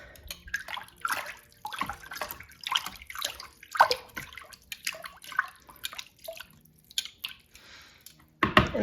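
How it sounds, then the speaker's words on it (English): Rit dye is stirred into water in a bucket, producing irregular sloshing swirls and splashy drips in short bursts, close and moderately loud, with no one talking. "So then we're gonna give it a stir."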